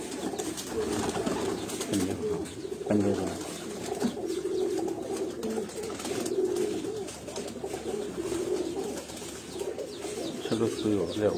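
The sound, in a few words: Sialkoti pearl pigeons cooing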